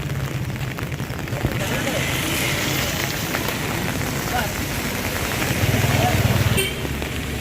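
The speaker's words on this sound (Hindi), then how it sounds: "और बारिश तेज़ हो रही है" Heavy rain pours down steadily as a dense, continuous patter on surfaces, loud and close throughout.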